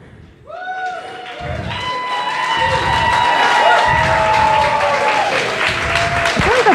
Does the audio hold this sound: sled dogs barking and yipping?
no